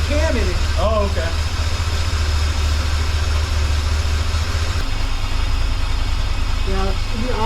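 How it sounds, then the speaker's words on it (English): A 1984 Bertone X1/9 with new injectors and a cam idles roughly and steadily up close, a low uneven rumble running throughout while people talk over it. "it should be idling just a little bit higher"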